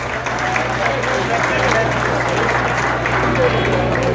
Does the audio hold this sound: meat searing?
no